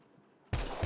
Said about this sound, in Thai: เสียงกระสุนมีนั่นไง